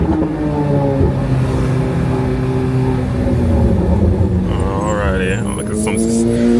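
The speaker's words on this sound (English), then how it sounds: "This car sounds so good." A twin-turbo supercar engine rumbles loudly and continuously nearby, its tone shifting slightly as it revs, with faint background noise underneath.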